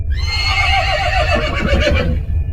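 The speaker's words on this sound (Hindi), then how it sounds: "वो देखो ग्रैंडपा का घोड़ा यहीं पर लगा हुआ है" A horse in a cartoon story gives a single loud, drawn-out whinny lasting about two seconds, close and clear, with no talking over it.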